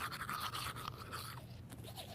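A toothbrush scrubs teeth close by, with a steady rhythmic bristly brushing that continues throughout.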